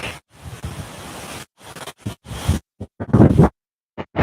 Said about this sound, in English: the wind definitely has picked up